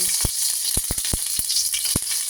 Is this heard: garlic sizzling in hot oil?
yes